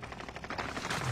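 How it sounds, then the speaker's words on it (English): Rapid gunfire in a video game battle, a quick burst of sharp repeated shots lasting about a second. "Shit, under heavy fire here."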